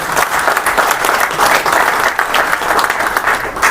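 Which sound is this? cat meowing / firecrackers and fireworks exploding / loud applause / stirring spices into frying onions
loud applause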